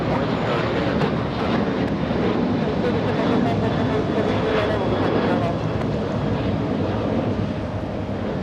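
United airliner taking off from runway 25 right at Los Angeles International Airport, a loud continuous jet roar with wind buffeting the microphone, steady for the whole stretch.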